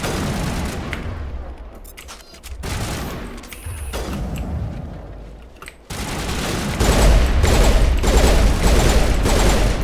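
Sustained gunfire and fusillades from the sci-fi shooter game Mass Effect, loud and continuous bursts with booming impacts, growing denser and heavier toward the end.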